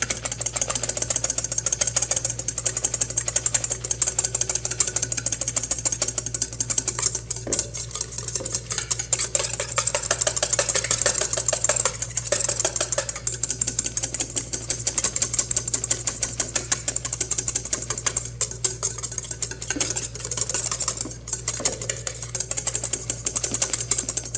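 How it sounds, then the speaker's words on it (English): Cream being whisked by hand in a frosty, chilled bowl, a steady rapid scraping and clicking of the whisk against the bowl that runs on without pause, with a constant low hum underneath. "And you just start whisking. You can see the bowl is frosty."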